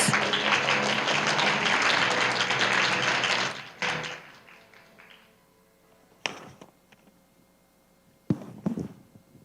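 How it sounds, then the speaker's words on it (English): Audience at an open parliament forum closing ceremony in Taiwan applauds, a dense wash of clapping that fades out after a few seconds, followed by scattered thumps and taps in a quiet hall. "Please give him a warm round of applause."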